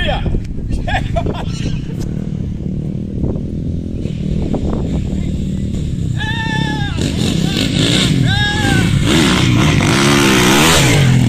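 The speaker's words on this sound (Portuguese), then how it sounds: "Ele saiu aqui só brincando aqui com a moto" A motocross motorcycle ridden playfully on a dirt track, its engine revving and droning throughout at moderate distance, while people talk and shout over it.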